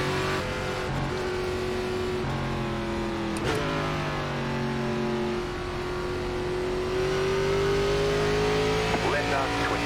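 A NASCAR Gen4 race car at Las Vegas in iRacing, its engine revving and accelerating steadily with loud rising and falling tones, while a voice talks over it.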